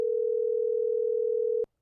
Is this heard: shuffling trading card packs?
no